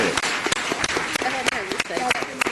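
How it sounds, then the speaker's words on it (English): A PTA candidate forum audience breaks into a round of applause for the candidates: dense, steady clapping close by, with voices rising through it. "Let's have another round of applause for all of our candidates."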